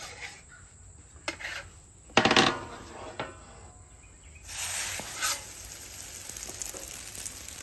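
Pizza dough cooks on a flat griddle top, a soft, intermittent sizzle with scattered crackles and a few clattering handling sounds, rising to a fuller frying hiss toward the end, with no one talking.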